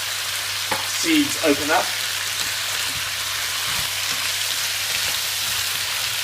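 Fennel seeds sizzle steadily in a hot pan while a sausage stew is being made. The crackle is a constant, dense hiss throughout, and a person speaks briefly over it.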